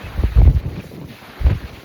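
Gusty wind buffets an outdoor microphone near the water, heavy low rumbling bursts that rise and fall in two strong gusts with quieter stretches between.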